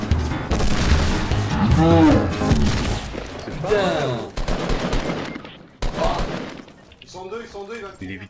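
Video game gunfire in a Fortnite match: rapid bursts of shots and impacts rattle through the first half, with a sharp break and quieter shooting afterward, mixed under voices and game sounds.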